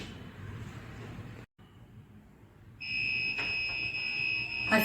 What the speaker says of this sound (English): As soon as the robber enters your house, there's a buzzer sound